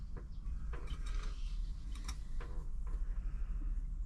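A Riccar 8400 sewing machine's needle and hook mechanism turns over slowly by hand, giving soft clicks and ticks over a low mechanical hum, close and quiet.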